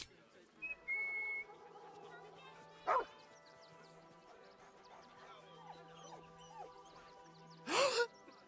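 A dog barks in Baldur's Gate 3, two short loud bursts several seconds apart over a quiet game soundscape with a faint whistle and soft background tones.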